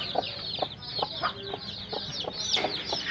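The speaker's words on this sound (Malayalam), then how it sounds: "ഇതിപ്പോൾ ഇന്നലെ വിരിഞ്ഞ കോഴിക്കുഞ്ഞുങ്ങളാണ്" Newly hatched native chicks, a day old, peep in a steady run of high, quick cheeps, several birds chirping close together with no talk over them.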